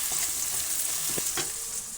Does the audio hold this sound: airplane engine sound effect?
no